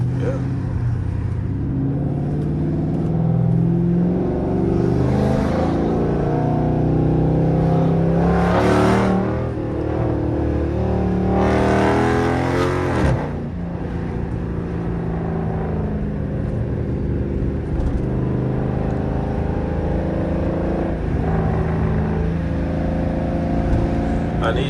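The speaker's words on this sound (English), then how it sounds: "I'm gonna just let y'all hear the car for real" A 400+ hp Dodge Charger R/T engine drones and rises loudly through gear changes while driving, its deep exhaust note swelling in revs twice around the middle with a voice talking occasionally over it.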